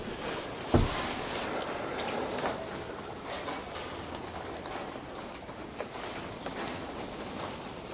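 Steady rain falling in a forest at night, a continuous dense hiss of drops on leaves and ground with a couple of sharp knocks early on, no talk.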